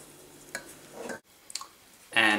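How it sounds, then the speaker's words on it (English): A yeast mixture is stirred into dough ingredients in a bowl, giving short close scraping and clinking strokes with brief pauses between them, ending in a louder burst. "We're just going to add the yeast mixture to this one. And then give them a good stir."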